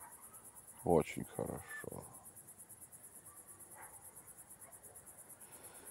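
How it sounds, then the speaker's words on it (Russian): Grasshoppers chirping outdoors in a quiet rural spot, a faint steady pulsing trill running throughout the clip, with a short burst of someone speaking near the start. "Что-то там кузнечики орут."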